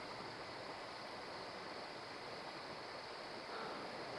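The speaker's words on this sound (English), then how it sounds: "You can hear the water in the background." A creek flows behind a hunting spot as a faint, steady, even rush of water with a hissy, broadband wash, distant and unchanging, with no voices.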